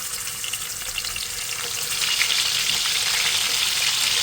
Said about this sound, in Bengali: তেলটা গরম হয়ে গেছে এখন আমি মাছগুলো দিয়ে দিচ্ছি